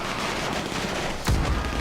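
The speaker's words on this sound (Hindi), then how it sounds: "और कितनी गोलियां चल रही है यार।" Gunfire in the video game GTA 5, a fairly quiet continuous rattle of shots with a heavier thump near the end.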